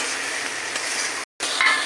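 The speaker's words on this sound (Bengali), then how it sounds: "পেঁয়াজের উপরে আদা আর টমেটো এবার একটু ভাজা হবে, লাল লাল হবে" Ginger and tomato fry over onions in a hot pan with a close, continuous loud sizzle, cut by one brief silent gap before the hiss resumes.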